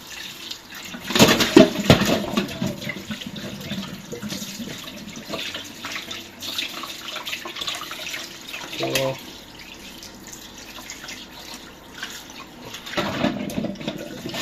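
Tap water runs and splashes in a sink while a plaice is rinsed and cleaned, close by, with louder splashes near the start and end.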